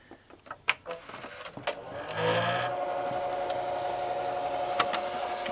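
A broken Quasar VH5471-K VCR with a faulty idler and pulley gives a few faint mechanical clicks and clunks, then its tape mechanism starts up into a strained, steady whirring hum as it struggles to play a tape, heard up close.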